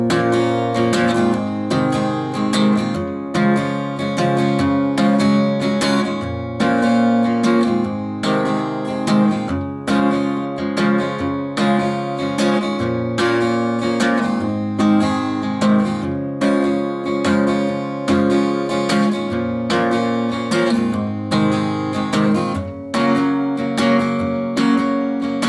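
Acoustic guitar strums a verse chord progression in a steady rhythm for about 25 seconds, loud and close, with no voices.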